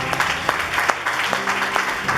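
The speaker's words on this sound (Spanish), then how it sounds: "Denle un aplauso al Señor." A church congregation claps for the Lord during a Sunday service, a steady, close round of applause with sharp individual claps standing out, loud and unbroken throughout.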